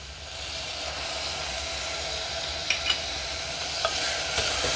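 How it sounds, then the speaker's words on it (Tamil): Onion and tomato sautéing for a chicken peanut curry, a steady close sizzle and fry with a few light spoon scrapes and stirs near the end, no talking. "தக்காளி சேர்த்தோன்னா நல்லா வதக்கி எடுத்துடலாம்."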